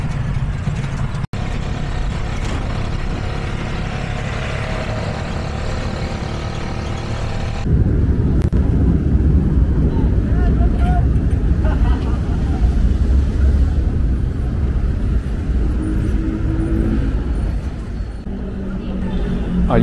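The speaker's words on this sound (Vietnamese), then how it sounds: "những tiếng động cơ khá là đinh tai nhức óc" Loud, droning engines of motorcycle sidecar taxis fill busy Manila traffic, a constant rumble that grows louder and closer partway through, with a sharp knock early on and voices faintly under the din.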